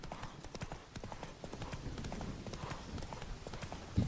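Roach the horse galloping in The Witcher 3: Wild Hunt, a fast rhythmic clip-clop of hooves running continuously at moderate volume, with a faint whinny in the background.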